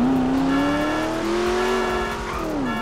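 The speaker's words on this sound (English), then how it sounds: "Y'all listen to the engine, though" A Dodge Charger Scat Pack engine in GTA 5 revs high and holds a strained, whining pitch that rises and dips slightly, loud and close.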